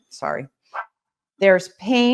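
A dog barks several times in short bursts close by, interrupting and overlapping a man's speech.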